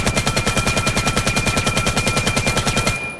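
Steady, rapid gunfire from a weapon in the video game Vail, a loud rhythmic burst of evenly spaced shots continuing for about three seconds before cutting off, with no talking over it.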